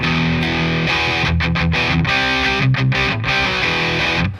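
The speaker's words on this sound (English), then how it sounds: "If I wanted my guitar tone to be distorted, I could turn my distortion on." A heavily distorted electric guitar plays loud, thick chords with brief choppy stops, gritty and saturated throughout.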